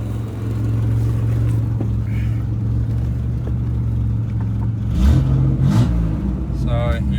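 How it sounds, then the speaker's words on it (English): A low-mileage Chevrolet Camaro drives down the road with a steady low engine drone, rising briefly toward the end, while someone talks over it. "We just drive it down the road for a little bit and back just to run the fluids through it."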